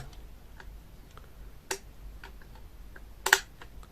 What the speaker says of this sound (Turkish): Nasıl çalışıyor? Şurada anahtarımız var. Şu şekilde.